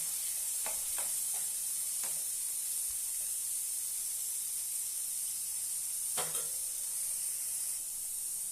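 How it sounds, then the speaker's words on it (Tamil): Tomato puree sautéing in oil in a pan for a Tamil manathakkali kai kulambu, a soft steady sizzle and hiss with a few faint stirring clinks scattered throughout. "இதையும் நல்லா பச்சை வாசம் போகிற வரை நல்லா வதக்கி விட்டுறலாம்"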